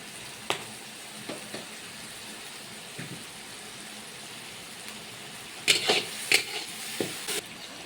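Onions frying in a pan at a teachers' feast meat cook-up, with a faint steady sizzle and a few sharp scraping stir strokes, clustered more densely toward the end.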